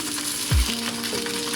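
Salmon fillets sear skin-down in a well-preheated pan, a steady close hiss with a faint tonal hum and a couple of low thuds as the fish is pressed and handled; no voices.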